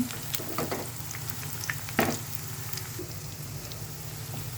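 Soya chunks deep-fry in oil over medium heat with a steady, fairly soft crackling sizzle and a few sharper pops along the way.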